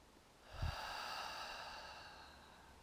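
A single slow, audible inhale through the nose during guided meditation, close and soft, swelling and then fading away with no talking.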